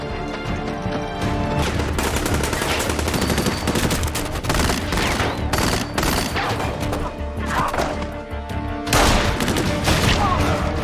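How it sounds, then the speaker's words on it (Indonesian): Heavy naval gunfire and explosions in a warship battle as a shell is fired at HMS Achilles, dense repeated blasts and crashes layered with dramatic music, loud throughout. "Mike menembakkan peluru ke arah HMS Achilles"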